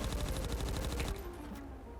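Rapid automatic gunfire rattles in a fast, even burst in a roleplay video game, then cuts off into quieter game ambience with no talking.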